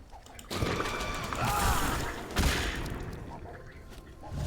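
An explosion ability goes off in the video game Smite, a sudden loud burst followed by a roaring, crackling rumble that swells and fades over a few seconds, with a second hit partway through.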